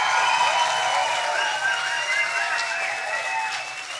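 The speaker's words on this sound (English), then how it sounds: "How does a stage 10 applause sound like tonight?" Audience applause at a Berlin science slam evening, a steady wash of clapping mixed with cheers and whistles that holds strong and fades slightly near the end.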